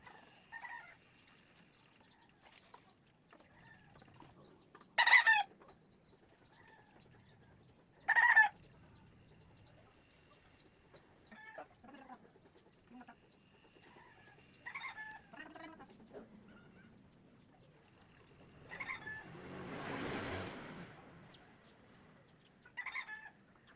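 Chickens cluck and squawk in short, scattered bursts, a couple of them loud and sharp, with quieter fowl calls and a brief rustling noise between.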